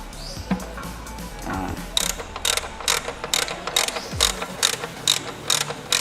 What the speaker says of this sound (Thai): เราก็มาถอดในส่วนของ น็อตถ่ายน้ำมันเครื่องนะครับ